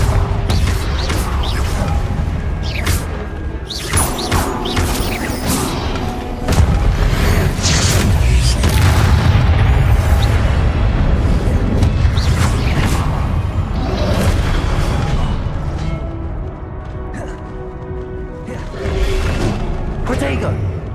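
Spellcasting combat in Hogwarts Legacy: repeated Confringo blasts land as heavy booms and whooshes, with thuds and crashes packed over a loud, dense battle bed while a voice talks throughout.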